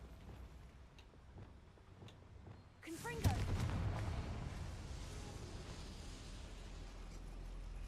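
Confringo fire spell in Hogwarts Legacy, a sudden blast that bursts in partway through after quiet game ambience, then trails into a lingering crackling rumble.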